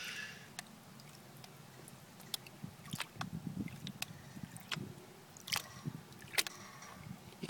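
Gravel and water slosh and swirl in a gold pan during a wash, with irregular clicks and splashes of stones scraping the pan over a low watery churn.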